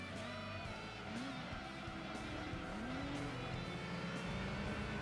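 Turbocharged car engine in Gran Turismo 2 (PS1, Japanese release), droning steadily and loud throughout, with rising and falling revs as it shifts through gears and faint tire noise, no talking.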